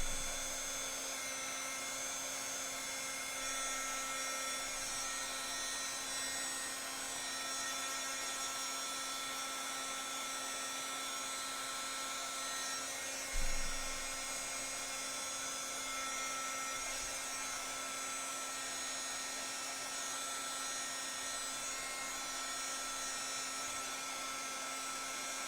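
A hair dryer blows steadily on a mixed media sleigh craft, a constant whining hum with a high tonal edge running unbroken, interrupted only by a brief bump partway through.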